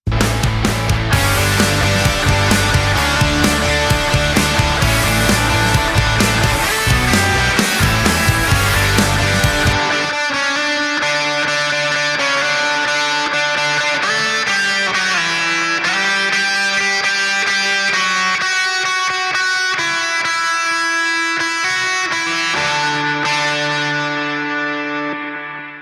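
A dense, distorted band passage gives way to a sustained lead electric guitar line, thick and layered with a lower doubled voice beneath the melody.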